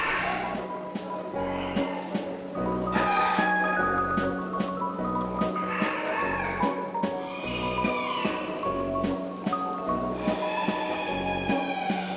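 Large roosters crowing at a winter animal exhibition alongside rabbits, with several bright crows rising over a steady, busy hall din and bursts of overlapping calls throughout.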